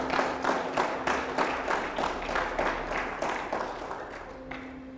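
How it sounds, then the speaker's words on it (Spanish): A church congregation bursts into rhythmic applause during a Spanish-language service, many hands clapping together in a steady beat with a sustained organ or keyboard tone underneath, fading slightly toward the end. "Denle un aplauso al Señor."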